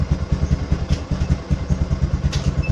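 Small motorcycle engine running with a clutch-activated light setup, a steady close putter of rhythmic low pulses with light mechanical clatter throughout.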